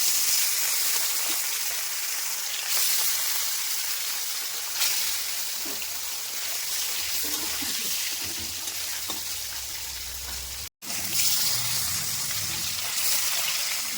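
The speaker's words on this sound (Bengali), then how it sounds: "মাছগুলো ভেজে নেবো" Catla fish, rubbed with salt and turmeric, fries in hot oil in a wok with a steady, close hiss and bubbling sizzle throughout, broken by occasional stirring sounds and a brief dropout near the end.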